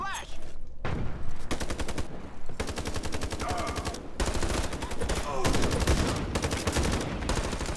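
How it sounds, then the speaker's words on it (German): Rapid automatic gunfire in the online shooter Ironsight, with loud continuous bursts broken by short pauses over the whole stretch, close and dominant. "Wieder Schuss."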